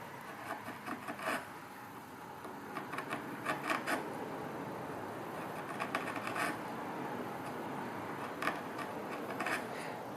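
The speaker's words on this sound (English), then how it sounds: "Alright, let's try the round gouge here." A small round gouge micro carving chisel cuts into walnut wood with repeated soft scraping and shaving strokes, irregular short bursts over a steady background hiss, close and fairly quiet, no speech.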